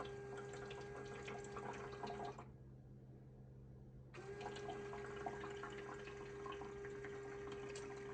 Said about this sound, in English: Oh, look at that. It's filling up to make its first ice.